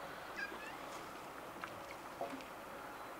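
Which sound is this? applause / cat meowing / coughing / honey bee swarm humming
cat meowing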